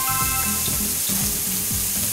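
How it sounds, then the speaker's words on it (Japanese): Anchovies sizzling in a splash of freshly added oil in a pan alongside mushrooms for pasta, a close, steady frying crackle with occasional stirring scrapes and no talking. "ここで少しだけオイル足しますね。 でこの足したオイルのところにアンチョビを半分"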